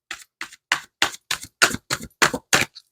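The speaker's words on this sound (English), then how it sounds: "I'm going to do a couple more shuffles" Tarot cards being shuffled come as about ten short, crisp papery bursts in a quick, even rhythm, close and fairly quiet, with silence between each one.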